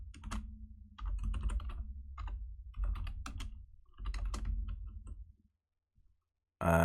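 Bursts of computer keyboard typing while coding a React to-do list app, close and crisp, in several quick clusters with short pauses, then a brief silence before a loud final noise.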